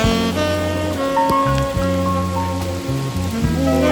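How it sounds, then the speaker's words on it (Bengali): Heavy rain pours down outdoors, a loud continuous wash of drops drumming on surfaces close by, steady throughout with no voices. "এ ভাই অনেক বৃষ্টি হতেছে"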